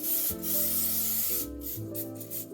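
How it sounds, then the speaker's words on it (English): A can of Pam cooking spray hisses onto raw chicken in a few close, short bursts over a low background hum. "I'm gonna start off by first applying a layer of Pam spray onto the chicken so that the seasoning sticks"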